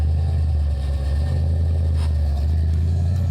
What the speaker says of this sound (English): The angry growl from the 308 cube motor